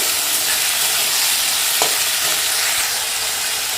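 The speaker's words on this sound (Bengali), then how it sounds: "আমি এর মধ্যে চৌকো করে কেটে রাখা আলুগুলো দিয়ে দিচ্ছি আলুগুলো দিয়ে ভালো করে নড়াচড়া করে নিতে হবে" Diced potatoes frying loudly in a pan with black cumin for aloo posto, a dense continuous sizzle close up with a faint stirring knock partway through, and no speech.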